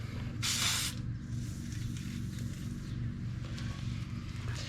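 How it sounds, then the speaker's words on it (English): Penetrating spray is blasted from an aerosol can onto the underside of a 1992 Chevy C1500 pickup during a trailer hitch install, one short sharp hiss over steady low background hum. "I've been spraying this down every day since I started recording it"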